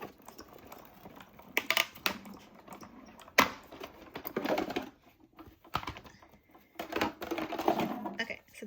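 A hand-cranked die-cutting machine rolls a die through to cut out bow shapes, giving a run of uneven scraping, crunching bursts with short pauses between passes and no speech.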